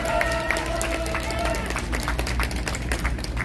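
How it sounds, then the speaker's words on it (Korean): Audience applause and crowd noise at a political rally marking the anniversary of President Park Chung-hee's death: dense, steady clapping fills the whole stretch at moderate loudness, with faint tones near the start. "여러분 박수 한번 맞아주시기 바랍니다"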